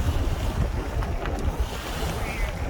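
A sightseeing boat running sideways into ocean waves, with a steady roar of wind buffeting the microphone over churning water and hull splash, loud and continuous for the whole stretch.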